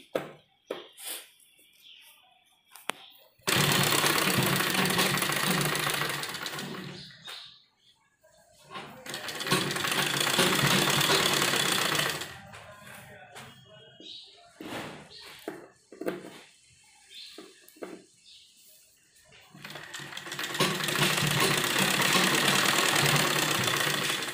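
A sewing machine stitches a child's kurti in loud, whirring bursts of several seconds each, broken by quiet pauses with faint handling noises.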